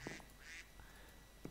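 A duck in the video game Minecraft quacks, two quick nasal quacks close together, then a brief pause and a faint trailing call, quiet under a soft background hiss.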